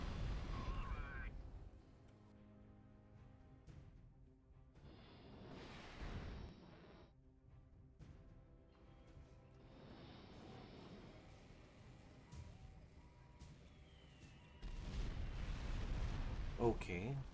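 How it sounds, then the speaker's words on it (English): Explosions from a bombing run in the mobile strategy game Art of War 3, with loud booming bursts at the start and end and scattered game effects between them. "that was not really a good bombing run"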